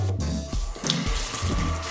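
Tap water runs steadily over a beauty blender sponge held under a faucet, a continuous close splashing stream that holds at an even level throughout.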